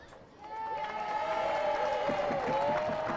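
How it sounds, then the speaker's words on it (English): A group of dignitaries on a stage at the 2019 Peekskill St. Patrick's Day parade cheers and applauds after a quiet start. The crowd noise swells quickly, and whistles and bright calls rise over the steady clapping. "a big cheer from the dignitaries gathered here on the stage"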